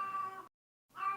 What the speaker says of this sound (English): There's a cat, a very vocal cat.